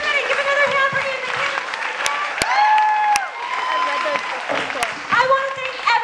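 An audience at a bookstore reading gives a round of applause, a dense patter of clapping with some cheering and a whistle, steady throughout with voices mixed in.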